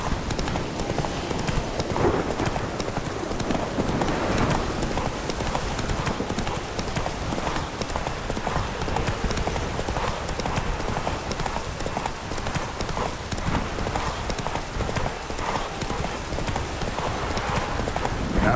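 Horse hooves clip-clop steadily in a video game at a continuous trotting rhythm, fairly loud and constant. A faint voice speaks briefly over them.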